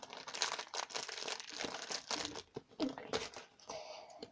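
Packaging crinkles and crunches in irregular bursts close by as it is torn and opened by hand, fairly faint with brief pauses.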